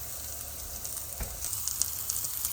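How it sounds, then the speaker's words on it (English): Bacon hits a hot griddle beside melting cheese and frying potatoes, a steady close crackling sizzle with one sharp burst as it lands and scattered pops after, no voices. "Drop some bacon in there"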